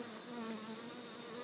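Bees buzzing steadily around a hive entrance outdoors, a dense, continuous insect hum with no pauses, fairly quiet and close.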